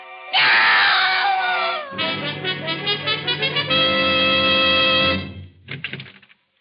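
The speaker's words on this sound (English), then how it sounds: "I heard a scream." A woman lets out a loud, sustained scream in an old-time radio mystery drama, starting shrill and wavering, then breaking into a shaking, pulsing cry before trailing off into short gasping sobs.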